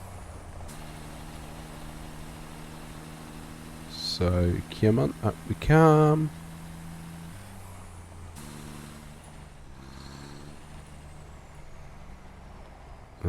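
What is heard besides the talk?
truck driving in the video game Satisfactory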